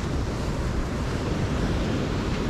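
Sea waves wash steadily onto a beach at Alanya, Turkey, a continuous broadband surf roar mixed with wind buffeting the microphone, with no voices.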